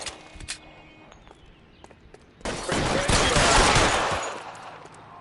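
Gunfire in the video game LA Noire, during the Nicholson Electroplating case: a quiet stretch with a few faint clicks, then a loud, dense burst of shooting lasting about two seconds before fading.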